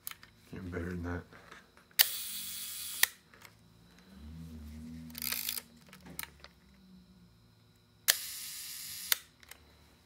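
Film camera shutter firing several times in a quiet room, each a crisp mechanical click, with a brief whirring film advance and soft handling noises between shots; a low voice murmurs once.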